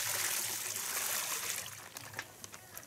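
Three litres of cow urine poured into a large batch of water for making organic compost fertiliser, a steady broadband splashing stream that fades after about a second and a half into scattered drips and trickles, with no talk.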